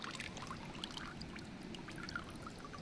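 Water pours steadily over a hat at a riverside, a continuous splashing trickle with faint flowing stream noise behind it, close and moderately quiet throughout.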